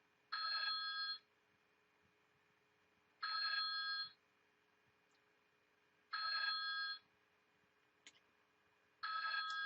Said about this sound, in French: j'avais baissé ma sonnerie de téléphone, mais j'ai oublié de baisser ma sonnerie de téléphone cellulaire